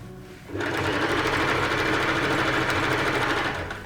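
A sewing machine stitching sequin fabric while a Japanese tote bag is sewn, running in one steady, continuous mechanical whir after a brief quiet start.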